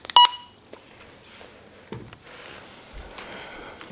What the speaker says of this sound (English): you can set the button beeps to be on or off